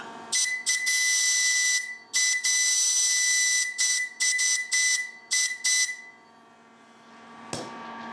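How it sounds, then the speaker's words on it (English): A shrill steam whistle blown with compressed air sounds in a series of loud blasts, some long and some short, with a breathy hiss, then fades into quiet. "so yeah, that's the steam whistle"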